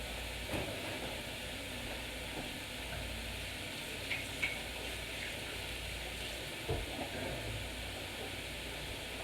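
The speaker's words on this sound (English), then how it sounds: "we're going to put 2 pounds of hamburger into our pan here, and we're going to start frying that up." Steady sizzling of ground beef frying in a pan, continuous and moderately close, with a few faint clicks and no talking.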